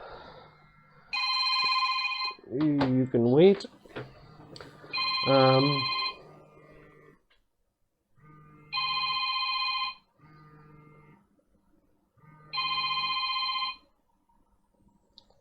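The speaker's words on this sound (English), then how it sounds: "I have a phone call." Telephone ringing with an incoming call, sounding in three separate, evenly spaced bursts of steady electronic tone with short silences between, heard alongside an earlier stretch of talking.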